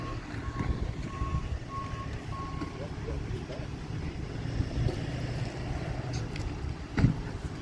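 A tow truck reverses at the scene of a three-vehicle collision, sending out a string of four evenly spaced electronic beeps over street noise and wind. A sharp knock comes near the end.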